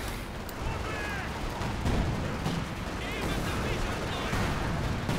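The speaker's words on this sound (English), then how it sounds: "I'm gonna drop some artillery over there" Artillery fire in the video game Company of Heroes 2 on the Lienne Forest map, a dense continuous rumble of booming blasts and crackling gunfire under scattered battle noise, loud and unbroken throughout.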